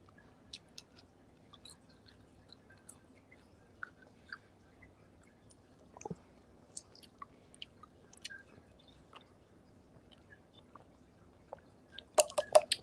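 Revived McDonald's fries being chewed, crunchy on the outside and chewy inside: soft, close, intermittent crunches and mouth clicks over near silence, ending in a slightly louder burst of chewing.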